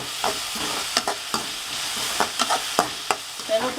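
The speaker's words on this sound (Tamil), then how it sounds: "வெங்காயம் வதங்கிடுச்சு" Onions sizzle in a pan for a Tamil fish puttu, with a steady frying hiss broken by irregular scraping stirs of a spatula, close and with no talking.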